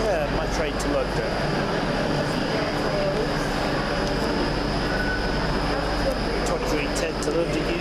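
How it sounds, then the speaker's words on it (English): Train bound for London Euston at a station, a steady low rumble of rail noise and platform ambience running throughout at moderate level, with faint voices in the background. "Yeah, my train to London."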